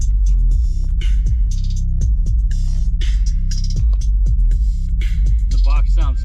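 A 12-inch active subwoofer in a vehicle plays a groovy bass test track, loud deep throbbing bass notes pulsing in a steady beat with lighter percussive hits above, heard close inside the cabin.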